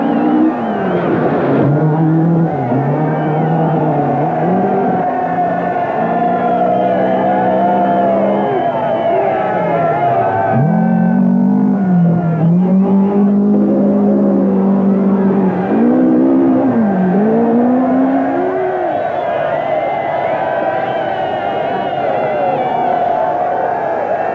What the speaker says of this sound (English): Forests are normally quiet at night, but once a year they come to life, fueled by the roar of engines